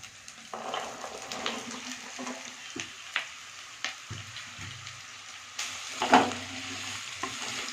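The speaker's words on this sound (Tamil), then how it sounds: "போட்டு நல்லா ஒரு கிளறி கிளறி விட்டுக்கலாம்" Chopped radish sizzles in a hot pan while a spoon scrapes and stirs it in irregular strokes, close and fairly quiet, while making a radish stir-fry.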